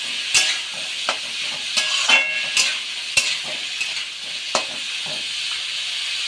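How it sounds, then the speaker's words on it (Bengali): Rice mixture is stirred in a pan while it soaks up the water, a low hiss broken by repeated sharp scrapes and clinks of the utensil against the pan at irregular intervals. "সেটা একটু নাড়ি চাড়িয়ে আমাকে নিলেই হবে"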